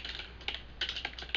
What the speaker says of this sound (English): So we'll just start typing over here.